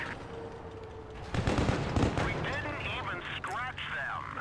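Tank cannon fire and hit impacts in the World of Tanks Blitz video game, heavy booming blasts mixed with game sound effects, with someone talking over them.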